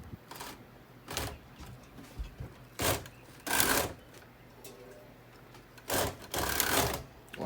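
A knitting machine carriage with a ribber attached is pushed slowly across a row, making several loud mechanical rattling, clacking sweeps separated by quieter gaps and brief handling noises.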